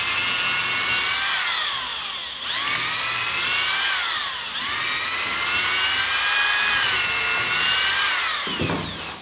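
A power drill with a thicker bit, about number 8, bores through material while building a homemade Robocop-style car horn, its high whining pitch rising and falling in three or four long strained passes with no talk.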